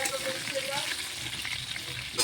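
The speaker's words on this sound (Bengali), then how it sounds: "আর এখানে কড়াইতে আলু ভাজা চলছে, এখানে আলু ভাজা চলছে।" Steady sizzling of potatoes frying in hot oil in a wok for chicken biryani, continuous and close, with faint voices in the background.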